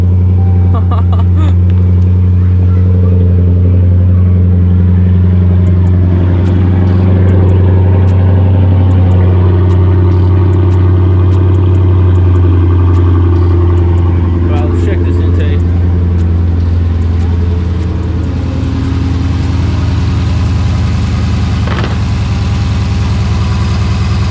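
Dodge Challenger Scat Pack with a 392 engine and a newly fitted JLT cold air intake, its loud low engine drone steady throughout with a few revs near the middle, as if heard from inside the car while driving.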